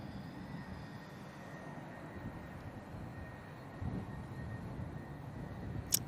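An EasyJet airliner starts its takeoff roll on runway 05 left at Manchester Airport, a faint, distant low rumble that holds steady and swells slightly toward the end.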